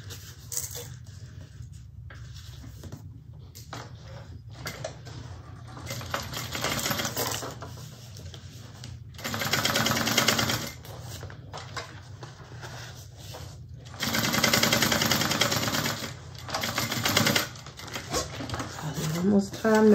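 A sewing machine top stitches a bag seam in bursts of rapid mechanical chatter, separated by pauses and softer handling noises, heard up close.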